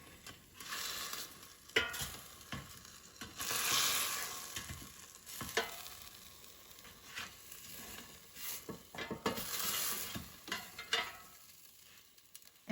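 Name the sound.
cube steak cooking in an air fryer basket, being flipped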